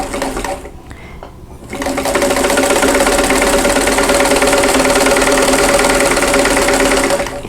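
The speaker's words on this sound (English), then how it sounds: "I'm going to sew from the center top to the bottom right, and I'm just going to follow the tape that's on my machine." A sewing machine stitches quilt block pieces in a fast, steady mechanical chatter that starts after a short pause and then runs continuously, close and loud.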